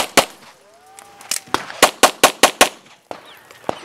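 Pistol shots at a USPSA practical shooting stage, a sharp string of loud, evenly spaced cracks, then two more isolated shots after a short pause, echoing outdoors.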